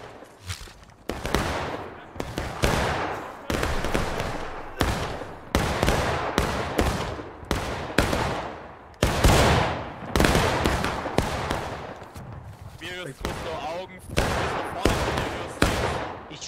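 Shots ring out in a military video game at a group event, a steady series of loud, sharp cracks spaced roughly every second or two, each with a short tail and brief quiet between.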